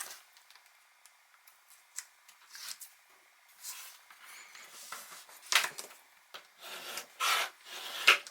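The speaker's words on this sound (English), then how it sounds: "Give it a little rub with your bone folder." A bone folder rubs along folded cardstock during mini album making, giving close, dry scraping strokes in short irregular bursts with brief pauses between them.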